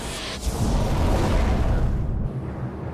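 A torpedo striking a ship at night sets off a deep, rumbling explosion, a loud, sustained low roar that fills the space and fades away after a couple of seconds.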